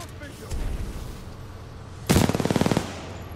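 Gunfire in a pilot fight in Titanfall 2: a single heavy shot early, then a loud, rapid automatic burst of about a dozen cracks, close and punchy over low background rumble.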